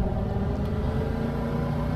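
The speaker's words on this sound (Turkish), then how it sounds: "Sesi güzelmiş ama bu arabanın da." A car engine in the video game Mafia 2 gives a steady, muffled, low growl that holds close and even throughout, with no talking.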